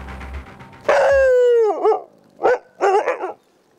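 Rescue dogs from a canine service bark close and loud: one drawn-out howling bark, then a few sharper yelping barks in quick succession, with quiet gaps between.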